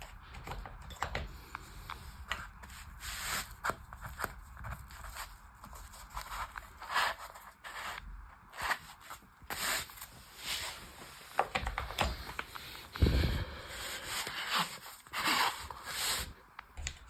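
Steel spanner wrenches, 8–32mm, slid one by one into a flat fabric tool roll bag, giving close, irregular metallic clinks and cloth scrapes and rustles throughout.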